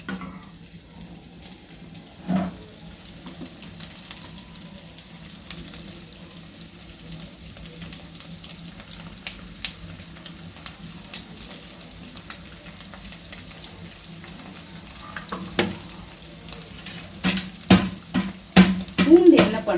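Egg fried rice fries gently in a pan at home, a soft, steady sizzle with occasional stirring scrapes and a cluster of sharper clinks near the end.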